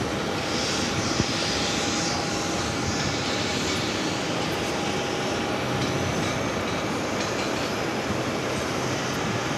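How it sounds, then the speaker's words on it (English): An Etihad airliner taxiing toward its gate at JFK airport produces a steady, loud, broadband engine roar and whine, continuous and unbroken throughout. "So Etihad making its way over to gate 7."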